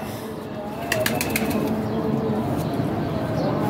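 Fancy Teddy pigeons at a pigeon show flap their wings in a quick cluster of beats, close by, over a steady low background hum.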